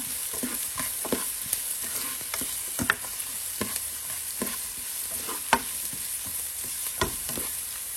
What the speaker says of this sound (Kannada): ಸೊ ಇದನ್ನು ಸ್ವಲ್ಪ ಚೆನ್ನಾಗಿ ಎಣ್ಣೆಯಲ್ಲಿ ಫ್ರೈ ಮಾಡ್ಕೊಳ್ಳೋಣ